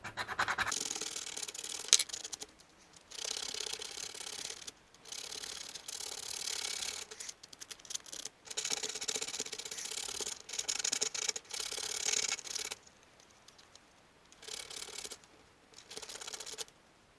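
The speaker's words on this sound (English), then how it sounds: "So we're gonna sand it again." Sandpaper rubs a balsa wood crankbait lure in repeated short scratchy strokes separated by brief pauses, close and fairly quiet, with no voices.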